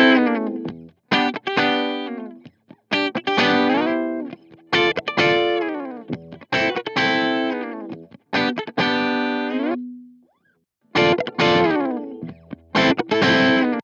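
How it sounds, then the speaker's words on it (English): Electric guitar through the Brainworx bx_rockergain 100 amp sim, clean channel pushed into breakup, plays choppy, gritty chords and slides in short bursts with brief gaps, loud and close, no talk. "So if you really push it, the clean channel breaks up nicely."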